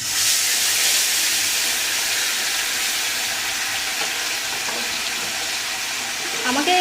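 Food pieces frying in hot oil give a loud, steady sizzle and hiss that runs throughout, fading slightly toward the end before a few clinks of a spatula.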